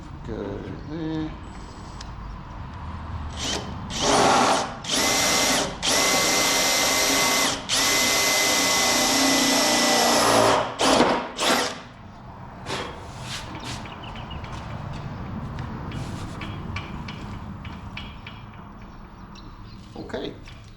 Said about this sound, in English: we can drill the fender from the back with a bigger drill